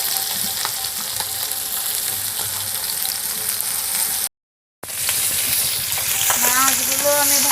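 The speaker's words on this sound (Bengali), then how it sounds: "মাছগুলো আমি ভালো করে ভেজে নিব" Live singi catfish frying in hot oil in a pan, a steady loud sizzle with stirring clatter, broken by a brief silent gap before the crackling resumes.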